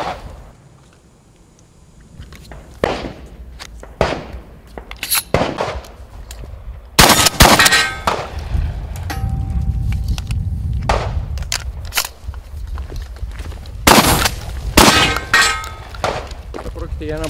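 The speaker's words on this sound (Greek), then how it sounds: "Όπως βλέπετε, είναι ένα όπλο που ρίχνει πάρα πολύ γρήγορα." A Browning BPS pump-action shotgun fires in rapid succession, with sharp, loud blasts in uneven bursts and short gaps between them.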